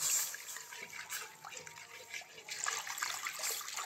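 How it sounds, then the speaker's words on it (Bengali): Milk is poured gradually into caramel in a cooking pan, making a soft, continuous liquid splashing and trickling sound heard close by, with no talk. "এবার এই দুধটা আমি ক্যারামেলের ভেতরে দিয়ে দেব।"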